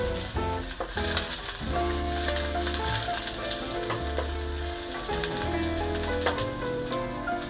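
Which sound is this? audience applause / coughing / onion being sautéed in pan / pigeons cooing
onion being sautéed in pan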